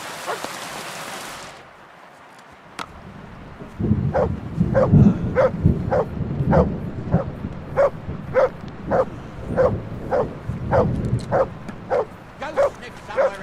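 A dog barks repeatedly in a steady rhythm, about a dozen sharp, fairly close barks following a brief burst of hissing noise and a quiet lull.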